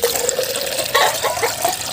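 Water splashes and trickles into a small container for feeding silkie chickens, a short close pour with a brief louder gush midway.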